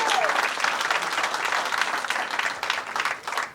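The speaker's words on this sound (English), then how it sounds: "So round of applause for them." Wedding guests at a Flowerfield reception applaud during the toasts, a loud, dense and steady clapping from a close crowd throughout.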